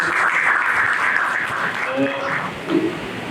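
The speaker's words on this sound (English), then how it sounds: "big round of applause to our chairman" A crowd at a round table meeting applauds in a steady, fairly loud wash of clapping, with some voices mixed in near the end.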